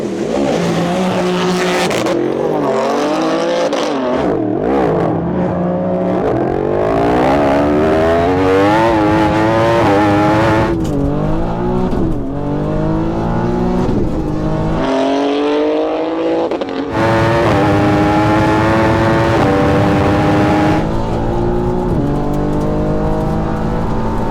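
A BMW M3 car and a Yamaha R1 superbike race side by side, engines screaming loud and close through rising gear changes with repeated upshift steps, drag-style acceleration sustained throughout.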